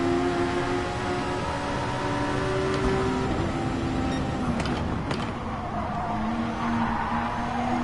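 Racing car engines roaring in Gran Turismo Sport during a Volkswagen versus Porsche race, with steady loud engine drone, shifting pitch and brief tire noise.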